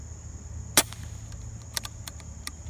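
A Benjamin Marauder .22 air rifle fires one sharp, loud shot, followed by a few faint clicks in an otherwise quiet outdoor setting.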